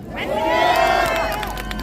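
A crowd in a public square at a Korean political rally shouts and cheers in a sustained, fairly loud swell, with scattered sharp noises and speech mixed into the babble.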